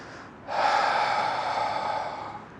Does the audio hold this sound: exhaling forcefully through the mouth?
yes